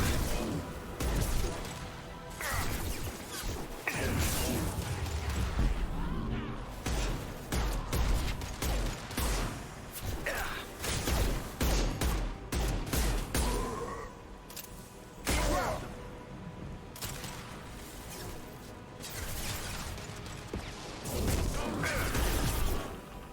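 Mass Effect 2 combat with dense, continuous gunfire, rapid shots and crashing impacts packed tightly together, loud and sustained for over twenty seconds with only brief lulls.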